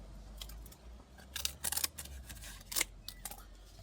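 Material being cut to length by hand for a garden project built from a beer barrel and tyre: a few short, crisp snipping clicks in an irregular cluster, close but fairly quiet, with no talking.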